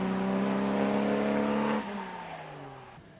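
A vintage Sunbeam Talbot Lago racing car at the Prescott hill climb, its engine holding a loud, steady harmonic drone close by, then dropping in pitch and fading slightly as it pulls away.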